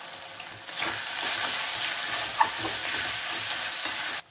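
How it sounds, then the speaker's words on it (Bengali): Chicken pieces with onion and garlic sautéing over a low flame, a steady soft sizzle with occasional spoon scrapes against the pan, close and continuous before cutting off at the end. "এটা একটুখানি চিকেনটা কষে নেব দু চার মিনিট, তো পেঁয়াজটাও ভালো করে আরও কষা হয়ে যাবে"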